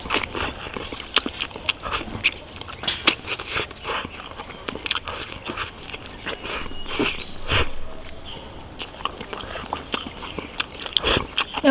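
Braised dried bamboo shoots with eel are chewed and eaten at a table, with many close, crunchy bites and chewing sounds in an irregular rhythm, while voices murmur faintly in the background.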